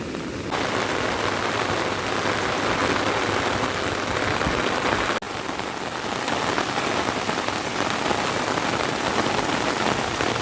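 Heavy monsoon rain pours down in a Konkan village, a dense continuous hiss of drops on surfaces, loud and unbroken throughout with no voices.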